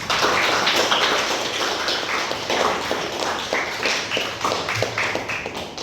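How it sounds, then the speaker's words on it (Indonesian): Schoolchildren in a classroom clap their hands together at the end of a lesson, a dense, steady patter of clapping throughout, fairly close and even in loudness. "Tepuk tangan untuk kita semua."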